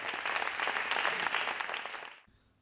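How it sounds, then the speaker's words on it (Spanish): Loud, dense applause from a crowd fills the space for about two seconds, then cuts off abruptly. "Un aplauso, por favor."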